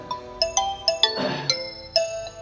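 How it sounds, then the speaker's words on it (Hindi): A phone alarm ringtone chimes in a repeating pattern of bright electronic tones, with a brief noisy burst partway through. "फिर से अलार्म बज रहा है मेरे फोन में"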